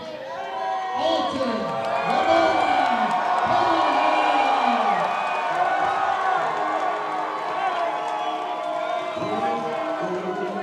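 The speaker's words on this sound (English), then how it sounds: "A huge ovation for Alton Cunningham as this sold-out crowd has picked out their favorite tonight" Sold-out crowd at a Chosen Few Fighting Championships cage fight roaring an ovation for fighter Alton Cunningham, loud sustained cheers and whoops filling the arena with scattered claps under them.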